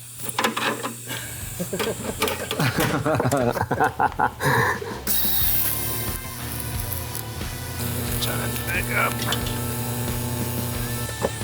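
Welding on a motorcycle: someone talks at first, then a steady buzzing, crackling hiss runs close and loud for several seconds.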